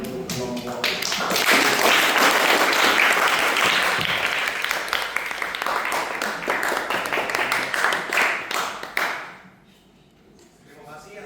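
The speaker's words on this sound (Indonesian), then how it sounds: "sekali lagi kita beri tepuk tangan untuk kelompok." Sustained applause from an audience at a school research paper presentation event, dense and loud clapping that carries on for about nine seconds before tapering off into quiet.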